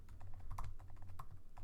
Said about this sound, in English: Oops, my typing is really bad.